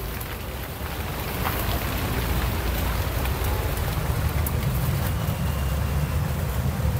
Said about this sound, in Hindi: अब दोस्तों काफ़ी तेज़ यहाँ पर बारिश पड़ चुकी है।